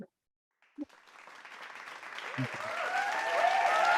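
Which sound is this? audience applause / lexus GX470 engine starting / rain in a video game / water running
audience applause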